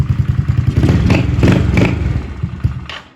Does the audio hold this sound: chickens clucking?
no